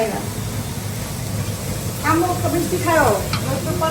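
Food fries in a pan in a home kitchen, a steady soft sizzle with stirring, while voices talk over it in the second half.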